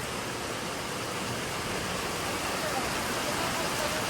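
Heavy monsoon rain pours in a steady, dense roar that fills the whole scene without a break, heard near a chicken shop in Kankavli market.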